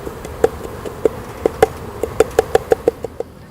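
Honey bees shaken into a glass jar give a series of sharp, evenly spaced taps and faint buzzing bursts, about a dozen brief hits in quick succession over a quiet background.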